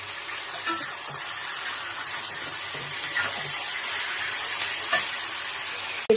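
Chicken pieces frying in hot oil with chopped onion and chili in a pan for a Bengali-style chicken curry with potatoes: a steady, close sizzle with a few light stirring knocks and no talking.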